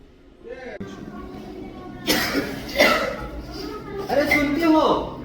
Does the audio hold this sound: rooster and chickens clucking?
no